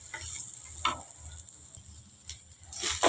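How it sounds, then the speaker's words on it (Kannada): Hill gooseberries (amla) frying in a little oil in a pan, a soft continuous sizzle punctuated by several scraping stirs, close and quiet with no talking. "ಇದ್ರೊಳಗೆ ಚೆನ್ನಾಗಿ ಫ್ರೈ ಮಾಡ್ಕೊಬೇಕು, ಒಳ್ಳೆ ಘಮ ಕೊಡ್ತಿದೆ."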